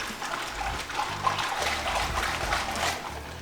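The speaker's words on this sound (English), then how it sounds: "we'll top it off with some water to kind of thin it out so it's not so strong." Water is poured into a homemade wild game jerky marinade, a soft continuous trickle and splash heard close up, with faint low thumps in the background.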